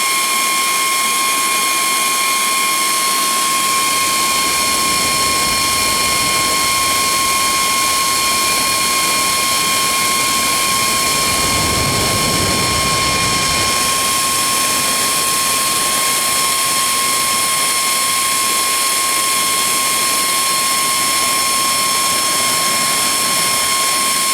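A loud, continuous mechanical roar with a steady high whine runs throughout, swelling slightly near the middle, with no talking.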